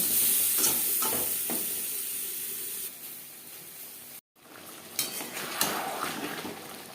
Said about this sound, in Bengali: আলু আমার সেদ্ধ করা আলু আমি হালকা করে ভেজে নেব